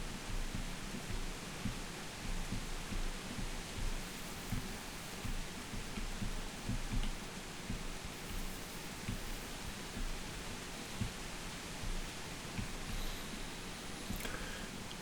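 Steady rain falls in the medieval open-world game Kingdom Come: Deliverance, making a dense, even wash of hiss and patter that runs unbroken for the whole stretch with no voices over it.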